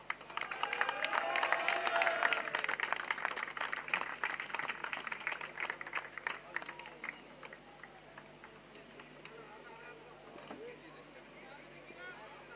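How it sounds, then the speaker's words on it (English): A crowd at the final day of a local cricket league tournament gives a dense, crackling round of applause for an award winner. It is loudest at first, then thins and fades under a speaker's voice. "A huge round of applause for him"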